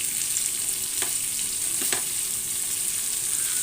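Fish pieces fry in a pan with a steady, bright sizzle, broken by a couple of soft utensil clinks near the middle.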